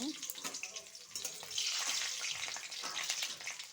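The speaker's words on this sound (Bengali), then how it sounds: "রসুনটা অল্প ভেজব ভাজব" Garlic fries in hot oil with black cumin seeds and dried chilli in a pan, a bright sizzling hiss that swells midway and runs on steadily.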